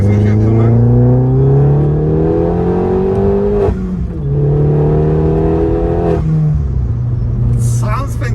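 An Opel Corsa OPC hot hatch engine revs and pulls hard through a rising tone on a rough road, dropping briefly as it shifts before climbing again, loud and close with voices mixed in.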